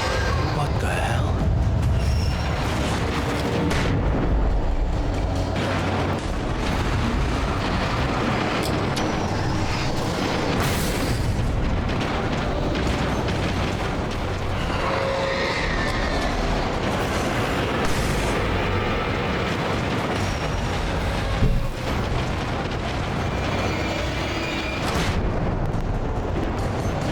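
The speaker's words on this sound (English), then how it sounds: "it's the flashbangs things" Flashbang explosions in the video game Alan Wake Remastered, a dense, continuous rumble of booming blasts running loud throughout, with a voice speaking over it at times.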